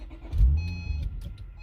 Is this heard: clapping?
no